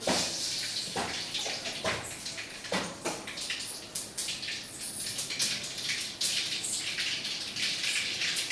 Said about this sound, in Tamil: இப்போ வந்து எண்ணெய் ஊற்றி கடுகு